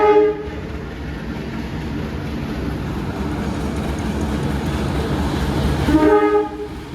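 An economy-class passenger train from Jakarta Pasar Senen to Blitar pulls into Cirebon Prujakan station, a loud horn blast opening and closing over a continuous rolling rumble and wheel clatter of the arriving cars.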